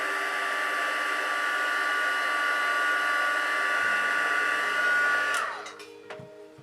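A heat tool blows steadily for about five seconds to heat-set a crease, then switches off and its whine winds down, with no talking.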